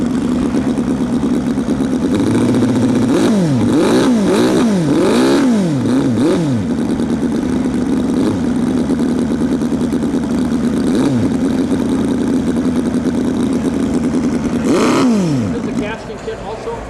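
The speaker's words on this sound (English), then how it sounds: "this engine is a British design by Edgar Westbury called the Sea Lion. This got an overhead camshaft, and it's a very lively little engine" A small Edgar Westbury Sea Lion overhead camshaft model engine runs with a steady idle hum, then revs up in several quick rising-and-falling bursts, with one more rev burst later, close and loud throughout.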